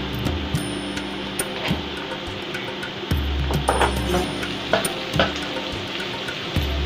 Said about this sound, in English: when you fry your locust bean, when you fry it, it's better, it tastes better when you fry it